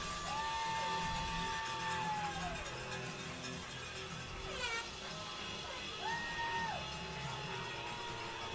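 A high school football crowd at a night game between Goochland and Louisa murmurs and cheers steadily in the distance, with a few rising whoops and a long whistled or horn-like tone sounding over the stands.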